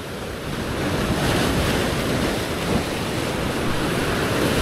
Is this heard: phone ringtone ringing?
no